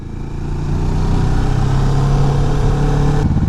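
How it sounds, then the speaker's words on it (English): A Kawasaki Vulcan S motorcycle with an Arrow performance exhaust drones loudly and steadily, with a rumbling exhaust note and a subtle shift in pitch as it downshifts near the end. "even downshifting like that, you don't really get much from the exhaust"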